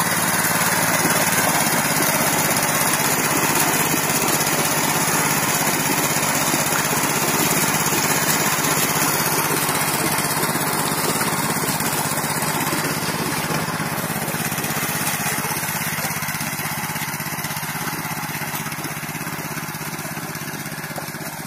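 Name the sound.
mini tractor engine running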